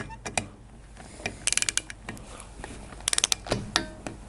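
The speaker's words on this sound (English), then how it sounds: "Let's see if we can do that with this torque wrench." Torque wrench clicking and ratcheting while tightening rocker boxes on a Harley Davidson Shovelhead engine, with two quick bursts of several sharp metallic clicks among scattered tool clatter, close and fairly quiet.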